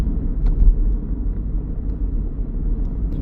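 A 2022 Audi A5 2.0 TDI 40 S line Sportback diesel with S tronic and quattro climbs a hill in 5th gear at about 1,500 RPM, heard as a low, steady, muted engine and road rumble from inside the car.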